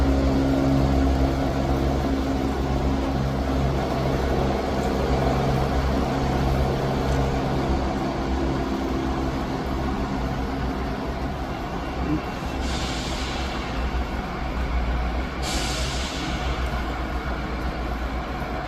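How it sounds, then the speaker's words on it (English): A ScotRail train rumbles steadily out of Edinburgh Haymarket station, a continuous low mechanical drone near the platform, with two brief airy hisses toward the end. "Departing out now is the 12:07 Scotrail service from Dundee to Edinburgh Waverley."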